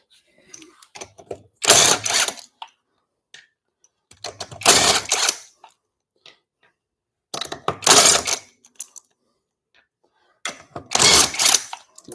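An impact wrench drives an impact socket through a chrome adapter while leveling a Mazda Miata after a coilover install, firing in four separate loud rattling bursts with brief pauses between them.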